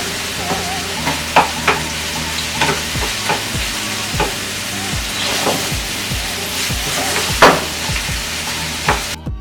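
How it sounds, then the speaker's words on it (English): Onions, cinnamon and spices sizzle and fry in a pot for pilau rice while a utensil scrapes and stirs in a steady, repeated rhythm, with sharper clinks now and then, close by and fairly loud. "stir frying it."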